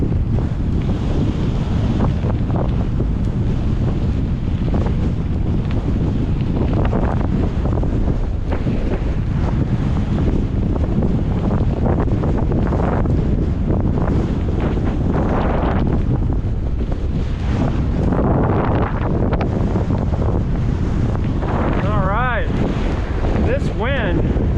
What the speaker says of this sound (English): Now it's a crosswind